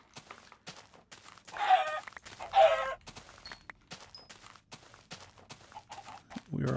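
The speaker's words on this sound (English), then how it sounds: "This big old chicken orgy over here." Chickens in a video game give two loud squawking clucks close by, with softer scattered clucks and brief bird calls in between against quiet surroundings.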